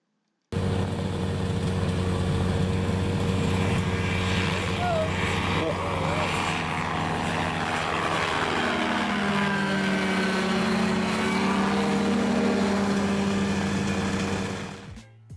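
A Kolb ultralight aircraft's light engine drones steadily and loudly for the whole span, with shifting harmonic tones as the pitch slowly rises and falls, then cuts off near the end.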